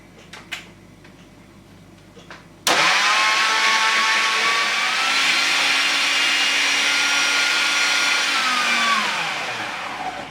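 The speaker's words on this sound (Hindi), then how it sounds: "और आपने ब्लेंडर ऑन कर लेना है और इसको ग्राइंड करेंगे तक बिल्कुल स्मूथ हो जाएगा" Blender switches on abruptly and grinds tomato and onion into a smooth paste, a loud, steady motor whir whose pitch slowly drops as the load changes, running alone without talk.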